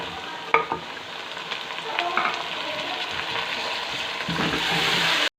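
Chopped medium tomatoes tipped into browned masala in a pan for dal maash set off a loud, continuous sizzle that swells and stays strong, with a clank near the start, before cutting off abruptly.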